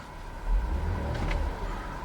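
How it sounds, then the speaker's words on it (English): A 2011 Buick Enclave CXL's 3.6-liter V6 engine rumbles low and close, swelling briefly as it revs before settling back toward a steady idle. "I'm going to rev the engine"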